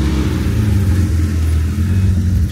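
A sports car engine at a cars and coffee meet rumbles with a loud, deep, steady drone, close by and without speech.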